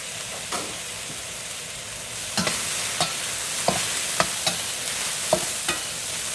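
Italian sausage sizzles and fries in a pot for soup, a steady hiss broken by a series of sharp stirring scrapes and clacks at irregular intervals, close and moderately loud with no talking.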